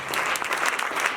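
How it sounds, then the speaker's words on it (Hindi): A congregation clapping hands together during a church worship service, a thick continuous roar of many hands at an even, fairly loud level, with no talking over it. "तालियां बजाएंगे सारे लोग, बजाते रहेंगे,"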